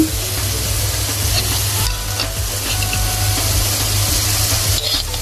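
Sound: katla fish pieces frying in spice paste

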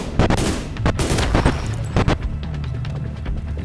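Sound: gunfire in the video game The Division 2

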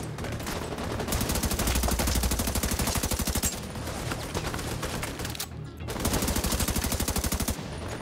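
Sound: machine gun fire in the video game The Division 2

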